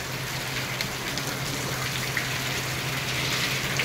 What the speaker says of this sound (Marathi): आणि शेवटी आता पाऊस पडला.